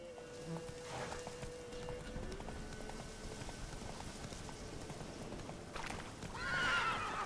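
Horse in a video game whinnying loudly near the end after a stretch of hoofbeats clip-clopping along, with faint ambient background throughout.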